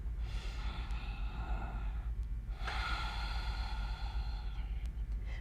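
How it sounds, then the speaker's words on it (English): Audible nasal breathing during a yoga pose, two long airy inhales and exhales through the nose at close range, alone with no talk. "Breathing in and out through the nose."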